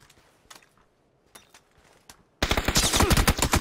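Gunfire in the battle royale game PUBG, a few sparse distant shots followed by a sudden loud burst of rapid automatic fire close by.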